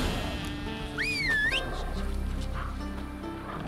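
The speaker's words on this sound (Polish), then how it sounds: "Co on te owce prowadzi ze sobą?" A sheep in the video game The Witcher 3 lets out a single wavering bleat, fairly close, over a low ambient game background with faint scattered sounds.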